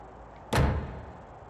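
A car door on a 1974 Toyota Corolla SR5 in a racing game, heard as a single quick door clunk that fades out over a moment against a quiet background.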